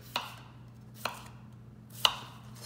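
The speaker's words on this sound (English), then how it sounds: "I want to show you real quick how I chop my potato." A knife chops through a potato on a cutting board in a home kitchen, three separate crisp thuds spaced about a second apart over a steady low hum, with no talking.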